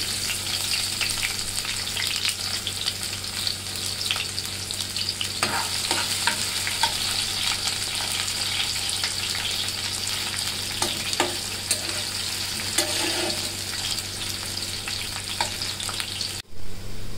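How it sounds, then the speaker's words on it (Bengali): Garlic and onion fry in hot oil with a constant close sizzle and crackle, broken by occasional stirring clinks and scrapes across the full stretch, and no voices. "তেলটা গরম হয়ে গেছে, রসুনের বাগার দিব। পেঁয়াজ দিয়ে দিলাম।"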